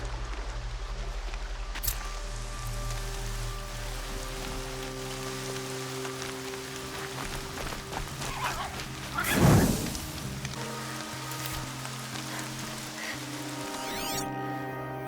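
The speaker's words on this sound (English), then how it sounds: "More rain." Rain in the video game Horizon Zero Dawn, a steady fine patter under sustained musical drones and tones, with a louder swelling rush midway.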